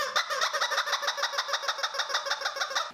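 Rapid, rhythmic squawking of squeezed rubber chicken toys, many shrill honks pulsing together in a fast, chaotic chorus.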